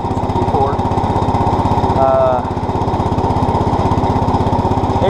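A 1964 Cub Cadet 100 garden tractor with a rebuilt engine runs steadily while plowing snow, a loud, close, rapidly pulsing small-engine drone that holds constant throughout.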